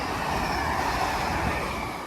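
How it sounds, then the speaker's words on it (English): A TransPennine Express passenger train passes through Wigan North Western station, producing a continuous broadband rumble and rush of wheels and air that stays loud and close for the whole moment, with no talk. "passing through now is a Transpennie Express service running from Edinburgh Waverley to Manchester Airport on divert"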